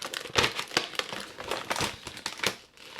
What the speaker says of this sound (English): Let's just rip it open